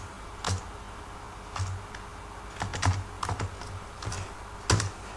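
Values are typed on a computer keyboard during a Python lesson: scattered, crisp key clicks come in small bursts with pauses between, close and clear against a quiet background.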